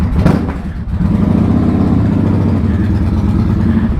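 A Valiant car engine revs loud and close on a test drive. A brief sharp burst leads into a sustained deep roar that holds strong and steady to the end.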